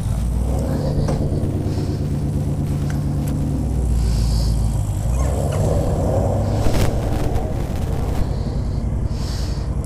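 A Honda Sabre custom motorcycle rides along, its engine a deep, steady rumble close by with slight swells in revs and no talking.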